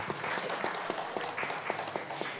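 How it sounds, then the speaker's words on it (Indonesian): Applause for a city department head at a public service mall anniversary event in Yogyakarta, a steady patter of many hands clapping at moderate distance, without talk over it. "Tepuk tangan dulu untuk Pak Kadis kita."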